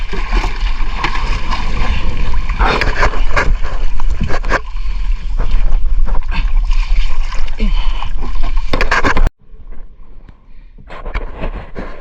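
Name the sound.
large boat motoring on the sea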